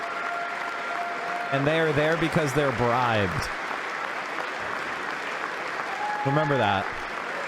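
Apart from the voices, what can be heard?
congress audience applauding, standing ovation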